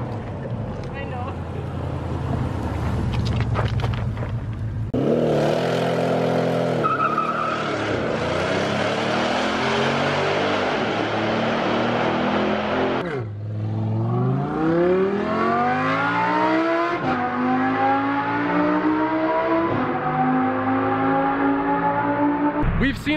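Audi cars rev hard through a highway tunnel on Angeles Crest Highway, loud engines climbing through gears with rising and falling pitch sweeps, echoing as one car after another accelerates past, with roaring wind and engine noise throughout.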